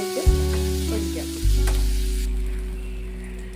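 A hot pan sizzles loudly as food is stirred through it, with a scrape at the start and another burst of frying partway through, the steady crackle fading slightly toward the end.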